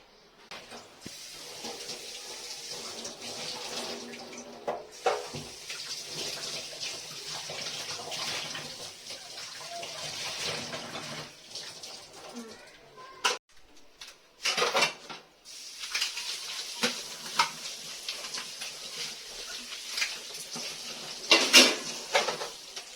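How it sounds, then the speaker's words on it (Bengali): Dishes washed in a home kitchen sink under a running tap, with a steady stream of water and repeated clinks of plates, pots and cutlery, broken by a few short pauses and sharper knocks. "বাসন মাজা শেষ"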